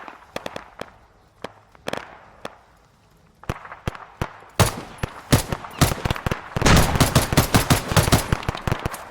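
Gunfire in the Arma 3 military shooter during a CSAT siege operation: scattered single cracks at first, some distant and some close, then building into loud, rapid automatic bursts and a dense exchange of shots.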